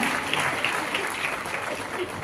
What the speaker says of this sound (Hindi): एक बार जोरदार तालियों से स्वागत अभिनंदन